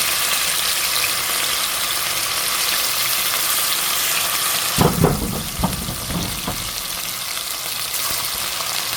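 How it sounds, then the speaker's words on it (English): Beef pieces dropping one by one into a pot of hot oil, with a steady sizzling hiss that swells into sharper bursts of frying pops midway, close and loud with no talking. "start adding the beef one by one, piece by piece"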